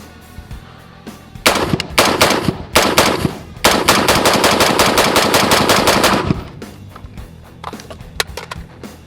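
A Dark Storm Industries Variant 1 rifle fired in rapid strings of loud, close, sharp cracks, one short burst and then a longer sustained run, followed by quieter clatter.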